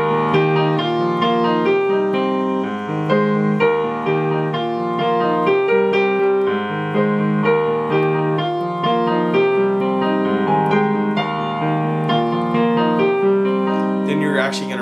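A piano plays the intro of a song in a steady, bright, repeating chord pattern, loud and close, running continuously without any talking.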